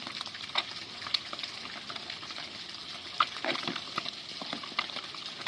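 Noodles frying in a pan over a garden cooking fire after chili powder and salt go in, a steady close crackling sizzle with occasional sharper pops and scraping stirs.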